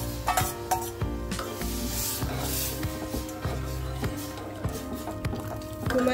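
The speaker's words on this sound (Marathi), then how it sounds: "आपण ही डाळ शिजवलेली आहे घेवड्याची, ती त्या फोडणीमध्ये" Cooked black ghevda dal poured into a hot tempering and stirred in a pot, with a soft sizzle, liquid sloshing and drips, and repeated low scraping knocks of a spoon against the vessel throughout.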